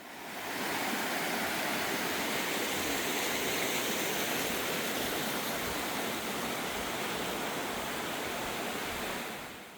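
A rain-swollen waterfall on Gwanaksan mountain near Gwacheon roars in a steady, dense wash of white noise, loud and close, with no pauses and no voices.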